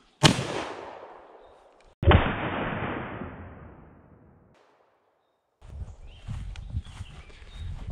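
Two sharp, loud reports from a Winchester Model 94 lever-action rifle in .30-30 firing jacketed bullets, each blast decaying over a couple of seconds, followed by faint outdoor rustling and movement.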